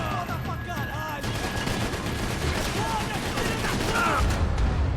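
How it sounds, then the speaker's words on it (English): Sustained automatic gunfire from a minigun in the video game Max Payne, a dense, continuous rattle of shots with game effects layered over it, loud and close throughout. "es una minigun"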